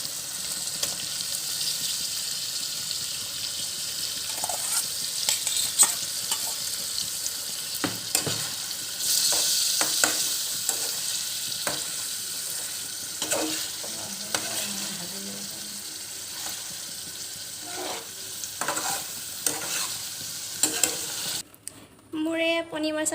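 Paneer masala with boiled potatoes sizzles steadily in a pan while a spoon scrapes and stirs it in irregular strokes, close up and fairly quiet.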